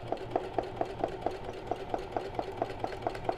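A sewing machine runs a straight stitch for free motion embroidery, a steady mechanical hum with evenly spaced needle thumps about four per second, close and continuous with no talking.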